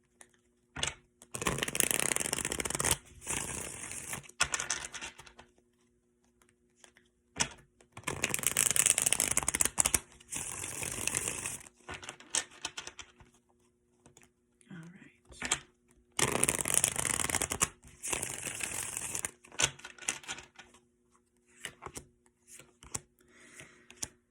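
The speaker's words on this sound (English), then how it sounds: "So I'm going to shuffle the deck, pull some cards" Tarot cards are shuffled in several bursts of rapid riffling and flapping, each a few seconds long, with quiet handling sounds between them.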